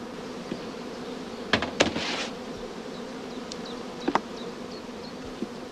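Honey bees buzz steadily around hive supers, a close continuous drone with a few louder passes of single bees flying near.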